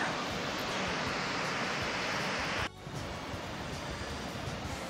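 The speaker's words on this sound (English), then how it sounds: "There's a waterfall right next to the cliff there." A waterfall beside a cliff at Tallulah Gorge gives a broad, steady roar of rushing water from a distance. The roar drops abruptly partway through and then continues at a lower level, blended with wind.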